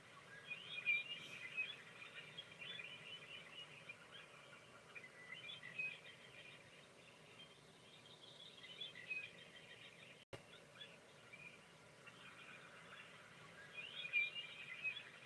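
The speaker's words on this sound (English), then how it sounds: "let's just focus on the birds in the background this morning." Recorded birdsong plays from a projector as faint, distant chirps and tweets over a low, steady room hiss. They continue quietly throughout without any voices.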